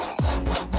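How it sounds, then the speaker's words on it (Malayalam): A hand file rasps back and forth across the glued joint of a coconut shell, giving a few short, close scraping strokes in quick succession. "അരം കൊണ്ട് ഇങ്ങനെ ഉരച്ചൊരച്ച് കൊടുക്കുക."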